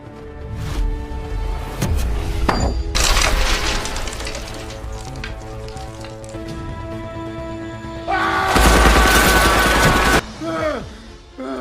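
Gunfire in an action film, sharp shots and bursts cutting through score and effects, with a heavy loud volley near the end amid voices.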